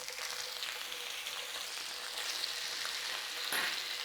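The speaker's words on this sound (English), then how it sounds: "get that bacon cooked a little bit" Homemade bacon slices sizzle and crackle steadily in a frying pan, a continuous close hiss of fat with small pops, slightly louder toward the end, no voices.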